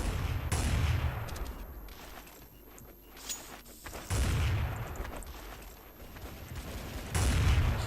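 Gunfire in a Counter-Strike: Source deathmatch match: several bursts of rapid shots come in clusters, loud and close, with quieter stretches of distant firing and footsteps between them.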